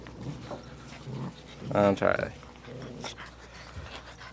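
A golden puppy pants and whimpers close by in short breathy bursts with a brief high-pitched whine in the middle, while a person talks over it.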